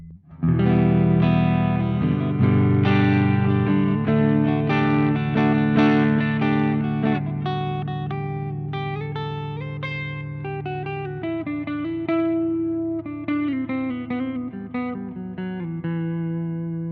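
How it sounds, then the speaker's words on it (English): Electric guitar plays sustained chords and then picked single-note phrases on a Les Paul's neck pickup through a Marshall JCM2000 TSL60 amp, with a warm, slightly driven tone and light reverb, played alone. "So here it is with the neck pickup of my Les Paul."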